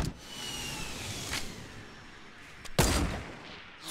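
Sniper rifle shots in Fortnite, a sharp crack midway and a louder blast near the end, each standing alone over quiet game ambience.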